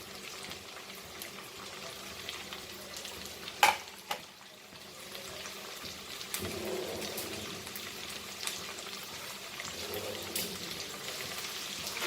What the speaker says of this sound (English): So just fry this.